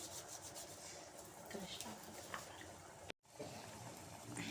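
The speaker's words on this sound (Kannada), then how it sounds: "ಸ್ವಲ್ಪ ಕಸೂರಿ ಮೇಥಿನ ಕ್ರಷ್ ಮಾಡಿ ಹಾಕ್ಕೊತೀನಿ." Dried kasuri methi (fenugreek leaves) is crushed between the palms into a simmering paneer pasanda, giving a faint, close, dry rustling rub over a low background hiss.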